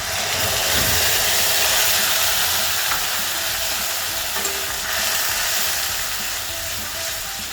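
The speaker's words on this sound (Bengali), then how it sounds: "মশলাটাকে ভালো করে নেড়ে নেব।" Cumin and ground spices sizzle and fry in a hot pan while being stirred for a paneer and jackfruit seed dish, a continuous close hiss with faint scraping from the stirring.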